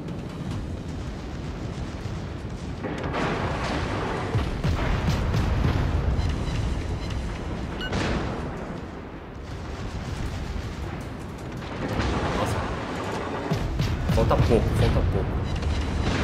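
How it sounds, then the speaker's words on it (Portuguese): Naval guns fire aboard the Charleston, a tier III cruiser in World of Warships, during a battle: repeated heavy booms and rumbling salvos with louder bursts, under a continuous battle din with a voice talking over it. "Se ele aparecer, já vou disparar um monte de tiro."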